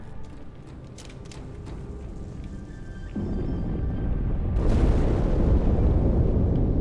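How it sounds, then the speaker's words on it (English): An explosion inside the Athens, a ship in the video game Halo 2, comes as a deep rumbling blast that swells from a low murmur into a loud, sustained roar with a second, sharper surge of debris noise near the end. "That explosion came from inside the Athens."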